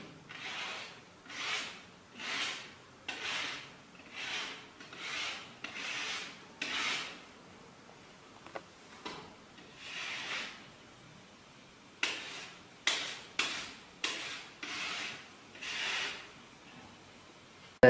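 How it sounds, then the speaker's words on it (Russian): A hand plane shaves the sawn edge of a plasterboard (drywall) sheet in a series of rhythmic rasping strokes, about a dozen close scraping passes with short pauses between them and a brief break midway. "Рубанок по гипсокартону."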